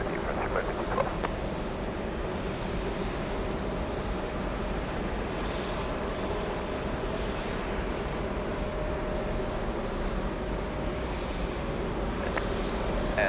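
A jet airliner at JFK, American Airlines flight 1528 bound for Austin, gives a steady, broad engine roar that holds at an even level throughout, with no talk over it.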